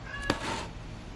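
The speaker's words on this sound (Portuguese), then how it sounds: "O meu gato só espera eu falar pra miar" A house cat gives one short, clear meow in a quiet room, a single close call with no talking around it.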